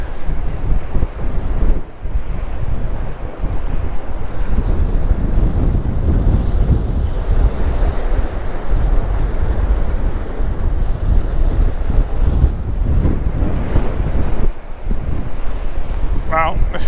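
Heavy surf pounds rocky shore at windy Santa Ponsa in Mallorca, a dense, loud wash of breaking waves with strong wind rumbling on the microphone and brief lulls.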